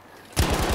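Rapid automatic gunfire in the video game Warzone Pacific, a burst of repeated shots that starts abruptly partway through and stays loud to the end.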